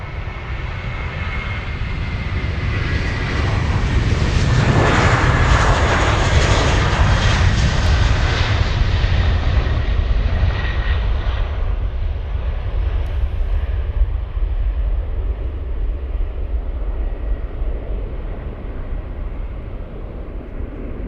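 A Lufthansa jet airliner bound for Barcelona from Munich airport thunders past close by with a deep engine roar and whine, peaking midway and then fading gradually into the distance.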